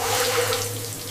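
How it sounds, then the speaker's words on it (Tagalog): Water spraying from a shower head, a steady, fairly loud hiss of running water that holds evenly with no pauses. "This is a shower head."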